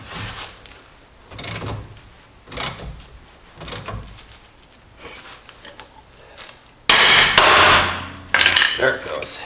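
Ball joint press being tightened on a Jeep Dana 30/44 axle gives a series of sharp metallic clanks and ratcheting knocks, close and irregular, with a louder burst of clattering near the end.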